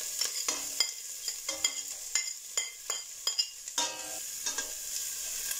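Garlic and carrots stir-frying in a pan, a steady sizzle broken by repeated scraping and clinking strokes of the spatula, close and alone with no talk.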